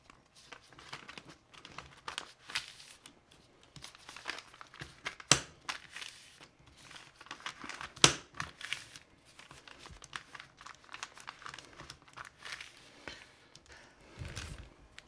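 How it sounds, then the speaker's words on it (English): Brown bag paper crinkles and rustles as it is wrapped around damp brush bristles, with irregular soft crackles and a few sharper crisp snaps, close and fairly quiet. "Now set the hair by wrapping the bristles in brown bag paper."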